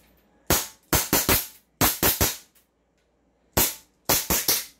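A Kimber 1911 gas airsoft pistol fires sharp, close cracks in quick bursts of two to four shots separated by short pauses, about a dozen in all.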